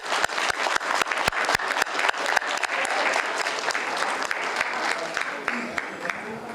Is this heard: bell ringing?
no